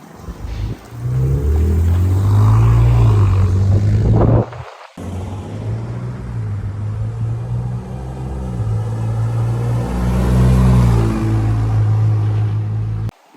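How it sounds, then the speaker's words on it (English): A Ford Raptor V6 twin turbo in stock mode drives past at the speed limit, its deep engine rumble swelling loud and steady, breaking off for a moment, then rising again with a throbbing low drone. "So drive-by, Ford, Raptor."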